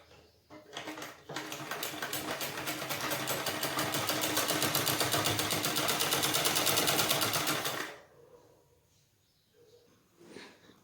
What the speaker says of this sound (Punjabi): ਇਹਨੂੰ ਹੁਣ ਆਪਾਂ ਇੱਥੋਂ ਸਾਰੀ ਸਲਾਈ ਇਹਦੀ ਲਾ ਦਾਂਗੇ